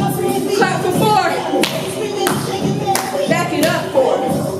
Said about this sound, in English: Clap for four.